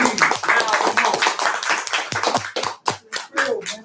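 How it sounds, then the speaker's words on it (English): Congregation clapping during a church sermon, a dense rhythmic patter of many hands close by, with voices mixed in and brief pauses near the end. "Yeah, clap on that."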